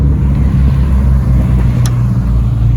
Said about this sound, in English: sporty classic cars